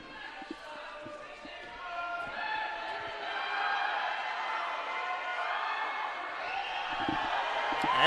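A small crowd at a men's college basketball game, USC Aiken versus Flagler, cheering and shouting in a steady swelling roar at moderate distance, with sneaker squeaks and an announcer's voice.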